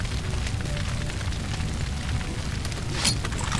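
A grenade explodes in the video game Far Cry 2, leaving a low rumbling boom and crackling debris that hold steady throughout, with a sharper pop near the end.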